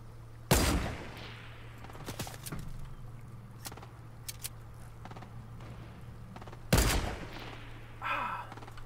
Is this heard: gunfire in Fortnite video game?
yes